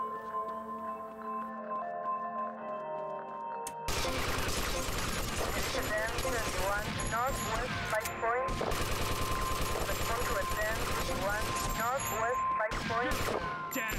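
Rapid gunfire in GTA Vice City: after a few quiet seconds, dense automatic bursts erupt and continue almost unbroken, loud and near, with brief gaps and some sharp single shots.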